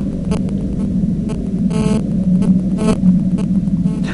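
A telephone ringing in the Dark Fall Lost Souls video game, short repeated ring bursts over a constant low hum.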